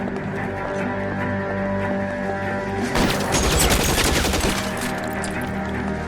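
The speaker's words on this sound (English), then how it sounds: "Let's get the machine gun." Machine gun fire in L.A. Noire, rattling off in a rapid, heavy burst that erupts midway over a steady bed of game ambience, loud and close with no voices.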